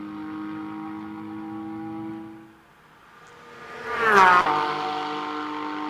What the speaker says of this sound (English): The sound of the race leading Cayman coming into Canada Corner.